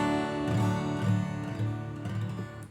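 A guitar in open D tuning, set up for slide playing, is strummed as full chords, several ringing strums in close succession, near and clear with no talk.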